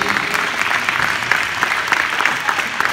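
An audience applauds a taekwondo champion at a meeting event, loud, dense clapping that runs unbroken and close throughout.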